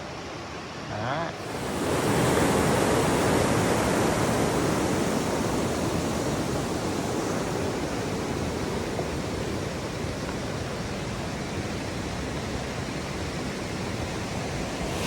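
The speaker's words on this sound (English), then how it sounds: "We only have rivers rushing this bad in the spring, usually after all the snow melt, but here it's fall and it's just rushing like crazy" River swollen after heavy autumn rain in a Pacific Northwest rainforest, a broad steady roar of rushing water that swells in after a brief quieter opening and then holds loud and constant.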